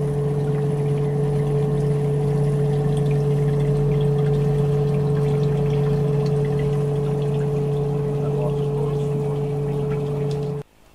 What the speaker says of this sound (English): is the jet flush machine ready to start the process with clean water and the X800 jet flow chemical added to it